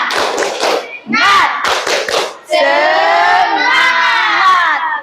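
Children in a classroom ice-breaking session clap a rhythmic pattern of quick hand claps, then a loud, drawn-out group chant of young voices follows.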